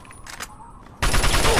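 Gunfire in the video game Fallout 3, a sudden loud, dense burst of shots that starts midway and continues to the end after a quieter stretch with faint voice-like sounds.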